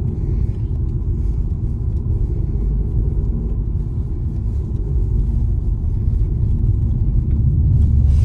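A car rolls over a badly broken, potholed road, giving a steady, loud low rumble of tyres and engine throughout with no one talking.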